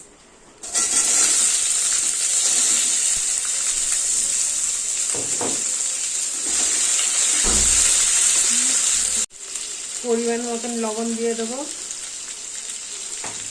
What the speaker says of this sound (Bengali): এই ছোট ছোট পিস করা সবজিগুলো সব দিয়ে দেবো এক এক করে